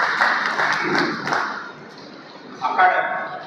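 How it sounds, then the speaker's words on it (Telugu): Audience applause welcoming a guest at a hospital staff training event, steady clapping from a seated crowd, fading midway then swelling again, with a voice talking over it. "అందరూ మన చప్పట్లతోటి స్వాగతం చెప్తాం."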